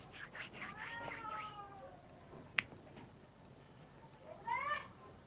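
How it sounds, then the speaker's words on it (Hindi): A cat meows repeatedly, a run of short cries followed by a longer wail, with a sharp click in between and faint background noise. "बिल्ली रो रही, क्या रो रहा है?"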